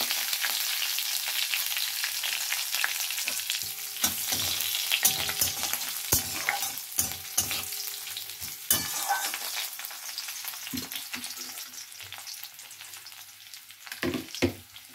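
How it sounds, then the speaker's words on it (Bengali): Bay leaves, whole garam masala and chopped garlic sizzle and crackle in hot oil, close up, broken by sharp clacks and scrapes of a spatula stirring the pan. "এবারে দিয়ে দেবো সব ফোড়ন, তেজপাতা, গোটা গরম মশলা, একটু রসুন কুচে দিলাম।"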